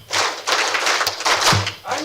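A crowded audience claps a rhythm back in unison, dense, overlapping claps running together almost continuously, with voices mixed in.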